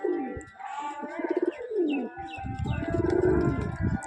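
Pet pigeons coo in repeated throaty rolling phrases at close range, with a few chirps and light rustling between calls.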